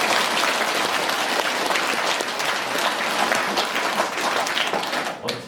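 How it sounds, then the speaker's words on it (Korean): A congregation at a monthly prayer gathering claps together in a loud, sustained round of applause that stays thick and even before tapering off at the very end. "하나 둘 셋 넷 박수 한번 쳐드립니다."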